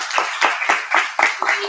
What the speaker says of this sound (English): I know we're clapping a lot.